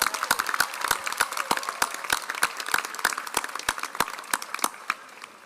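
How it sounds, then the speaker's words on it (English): A large crowd at a 2021 College of Arts and Sciences commencement ceremony gives sustained applause, with crisp individual claps standing out over a dense, fairly distant patter that continues steadily with no talking. "let's give them a big round of applause and congratulations too as well"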